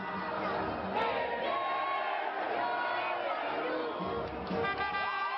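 Fifty thousand supporters in the Barranquilla stadium singing the Colombian national anthem in unison before a Colombia–Chile football match, a massed, sustained choral swell, loud and enveloping, with a voice speaking over it.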